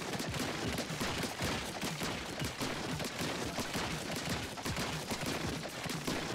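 Rapid ink weapon fire in Splatoon 3, a dense stream of quick splattering shots repeating steadily and loudly throughout with no pauses.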